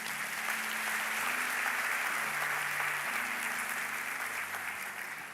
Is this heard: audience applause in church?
yes